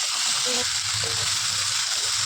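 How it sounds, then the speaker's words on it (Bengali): Spice masala fries in a pan with sour yogurt being added for a spicy pabda fish curry, a soft steady sizzle with faint stirring, no voices. "এর মধ্যে আমি টক দই দিয়ে দিয়ে কষাবো"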